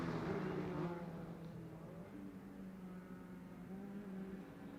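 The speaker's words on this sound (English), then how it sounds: "Hostley gets past another lap car on the front straight." Mazda Miata race cars pass on the front straight at Lime Rock Park during a Miatacon race, a droning engine note that rises, then slowly fades as the cars move away.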